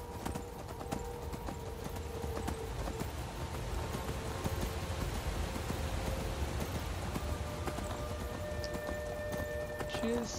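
Horse hooves clip-clopping in the Skyrim video game, a steady galloping rhythm under rain-like ambience, with someone talking over the game sound.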